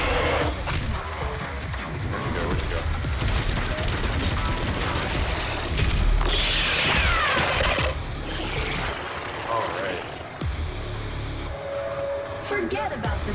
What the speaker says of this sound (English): Oh, just launching grenades like crazy.